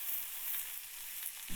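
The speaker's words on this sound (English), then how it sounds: "Frying for about 2 minutes, time to flip them onto their other side." Food fries in a pan with a soft, continuous sizzle and crackle, close by and brief, with no one speaking.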